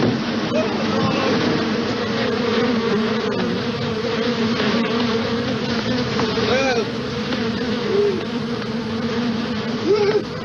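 Dense swarm of bees buzzing loudly and continuously at close range, a thick droning hum that wavers slightly throughout.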